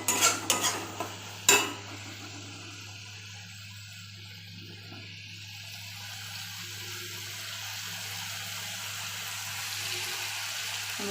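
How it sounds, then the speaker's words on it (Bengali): Broth is poured into a pan of spiced egg curry masala. A few clinks and a short splash come first, then a low, steady simmering hiss, with no talking. "এবার আমি ঝোল দিয়ে দেবো।"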